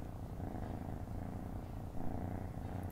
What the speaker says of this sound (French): Mais là, il y en a d'autres de chats qui ronronnent aussi.